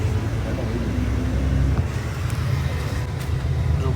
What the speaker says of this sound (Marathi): फायनली बसलो गाडीत. स्लीपर गाडी.